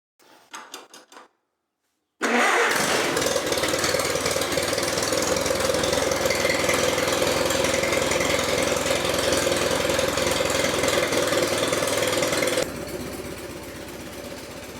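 An Allis Chalmers WD45 tractor fitted with aftermarket Char-Lynn power steering runs steadily nearby as it turns, a loud continuous engine drone with a knocking undertone that drops in level near the end, after a brief clatter and short silence.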